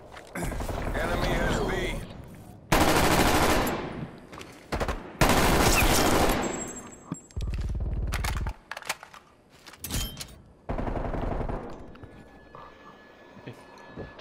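A rifle fires at long range in the video game Call of Duty: Black Ops Cold War, with loud, close bursts of sharp shots and short volleys that break up and then start again.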